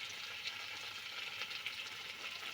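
Red chili Schezwan sauce and tomato sauce sizzle and fry in a pan as they are stirred, producing a soft, continuous crackle with light scraping, close by but quiet.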